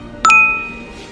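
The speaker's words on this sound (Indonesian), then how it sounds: "Apa lagi bunyi SMS itu?" A phone's SMS notification rings out as a single bright, loud ding with a quick double strike, its clear tone lingering and fading over a quiet indoor background.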